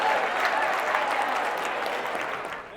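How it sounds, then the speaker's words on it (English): Audience clapping together in a room, a dense steady wash of hands that holds strong for nearly three seconds and only begins to thin toward the end. "Clap it up for yourselves and have a seat."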